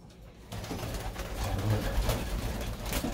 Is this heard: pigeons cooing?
yes